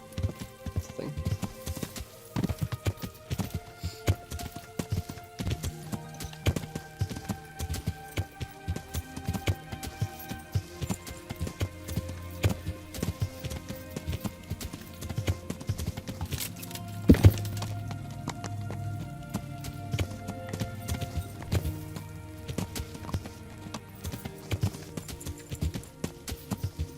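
Horse hooves clip-clopping in the medieval video game Kingdom Come: Deliverance, a continuous faint patter of hoofbeats running for the whole stretch.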